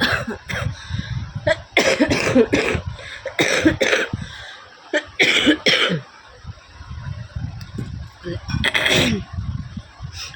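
Repeated harsh coughing fits from a person, loud and close, in bursts with short pauses, some sounding wet and strained, with a little throat clearing between them.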